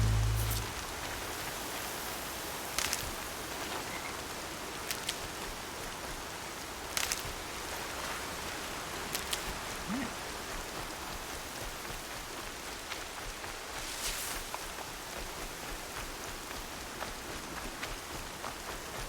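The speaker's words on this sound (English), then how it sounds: "Not gonna hear a thing over the storm." Steady storm rain in Horizon Zero Dawn, a dense continuous hiss of drops with occasional sharper spatters, moderately loud and without talk throughout.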